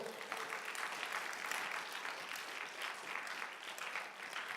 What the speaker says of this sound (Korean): 감사의 박수로.